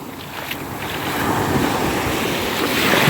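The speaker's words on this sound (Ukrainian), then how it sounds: "сьогодні море. Неспокійне воно. Такі красиві хвильки нам дарує." Rough Black Sea surf off Odesa churns and crashes steadily, with gusty wind roaring across the microphone and no voices.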